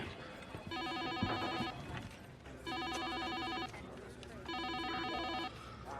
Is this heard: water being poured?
no